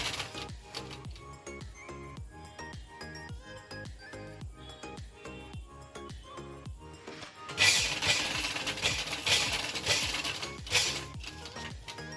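A sewing machine stitches small pleats into a saree frill, running in a steady rapid mechanical rhythm of needle ticks, with a brief louder, busier burst partway through; no talking.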